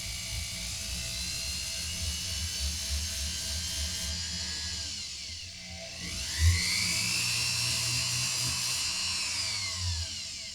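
Rotary tool fitted with a 3M bristle disc polishing jewelry metal, a high steady whine that dips briefly midway before spinning back up, close and continuous with no talk.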